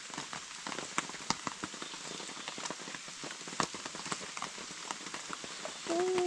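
Steady rain pours down outdoors, a dense, even patter with sharp drips and crackles spread throughout, continuous from start to finish.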